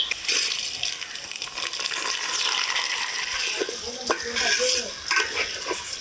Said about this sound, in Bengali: মুগ ডালগুলো একটু লাল লাল করে ভেজে নিলাম এবার এর উপরে ধুয়ে রাখা আতপ চালু দিয়ে দিব